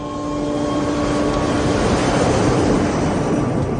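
Cargo airplane engines drone loudly and continuously with steady tonal hums, swelling slightly in power as the aircraft turns, with no voices.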